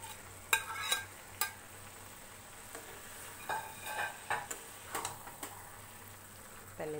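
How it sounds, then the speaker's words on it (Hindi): Crumbled paneer is fried on high flame in a pan, a faint steady sizzle punctuated by irregular sharp scraping clicks from a stirring utensil. "इसमें हम क्रम्बल किया हुआ पनीर डाल देंगे, इसको हाई फ्लेम पर अच्छे से भुनेंगे"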